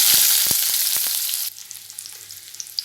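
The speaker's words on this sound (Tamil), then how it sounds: "வெங்காயம் வதங்கிருச்சு." Chopped onion fries in hot oil with mustard seeds for a brinjal gravy, giving a loud, hissing sizzle at first that drops to a softer crackle with scattered pops.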